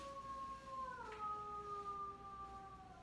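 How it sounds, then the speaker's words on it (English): A dog howls next door, a long, faint, wavering wail heard from a distance through a house interior, steady over low background hum. "that's a dog wailing next door"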